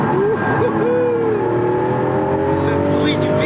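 A Lamborghini Aventador's V12 on a track with slick tires accelerates hard toward nearly 9,000 rpm, a loud, close, steadily rising engine howl that holds for the whole stretch, with a voice talking over it.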